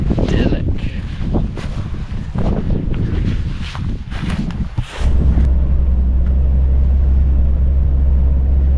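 Strong wind buffets the microphone at an outback coffee stop in Australia, a loud continuous rumbling roar that gusts unevenly, with occasional faint voices and movement underneath.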